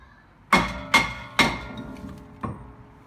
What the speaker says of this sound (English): give the hammer to the brake disc a few times